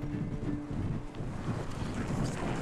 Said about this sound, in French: Le vent y est glacial